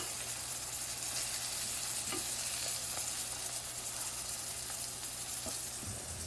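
Green tomato slices fry in a pan with a steady, bright sizzle and faint crackle, close and continuous, with a few light clicks and no talking.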